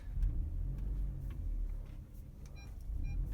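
A car's parking sensor beeps while reversing: faint, short, high beeps repeat near the end over a low engine hum.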